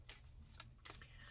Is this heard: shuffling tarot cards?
yes